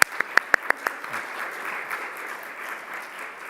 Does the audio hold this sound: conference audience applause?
yes